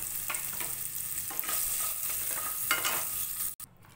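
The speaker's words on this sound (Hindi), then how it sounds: "अब गाजर फ्राई कर लेंगे, इन सबको सौते कर लेंगे।" Carrots and other vegetables sauté in a pan with a steady sizzle, broken by several light scrapes of stirring before a sudden drop near the end; no one speaks.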